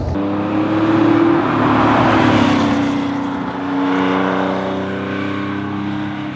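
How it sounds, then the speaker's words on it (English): A Porsche 911 2.8 RSR drives along a rough country road, its engine note droning steadily from the cabin with a swell in revs partway through, alone without talk. "This is a really rough country road around here, and it's just driving beautifully."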